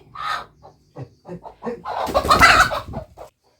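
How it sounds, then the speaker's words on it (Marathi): A rooster crows loudly nearby, preceded by a few short clucks and followed by softer clucking. "तरी कोंबड्याचा आवाज पण नको वाटतंय"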